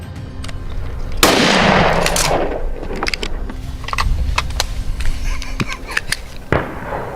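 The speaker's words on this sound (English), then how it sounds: "Gunfire echoed through the hills" Sharp gunshots from a feral hog hunt on farmland crack out one after another, with echoing tails rolling away across the hills, some loud and close, others more distant.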